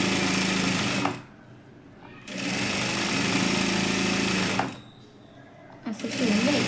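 A sewing machine stitches the neckline of a saree blouse in loud, rapid whirring bursts separated by short pauses, with a voice speaking briefly between runs.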